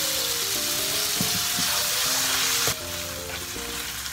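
Pasta cooking water is poured into a hot pan for carbonara and sets off loud, steady sizzling and bubbling, which drops suddenly in intensity partway through as the pan settles.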